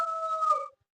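A human voice imitates a dog howling in a Kannada comedy film, producing one steady, clear howl of about three-quarters of a second that cuts off into silence.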